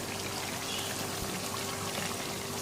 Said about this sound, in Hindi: सारा सूप भी हमने शामिल करना है, सूप बिल्कुल ज़ाया नहीं करना